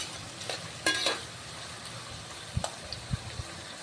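Onions sautéing in a pan for chicken biryani, a soft steady sizzle broken by a few distinct scrapes and knocks of a spatula being stirred.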